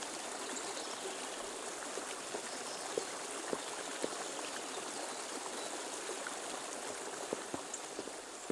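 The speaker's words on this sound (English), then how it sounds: "It's a good thing we have this stream." Shallow stream flowing steadily beside a village in the medieval game Kingdom Come: Deliverance, a soft continuous trickle and babble with occasional small drips, heard alone at low level.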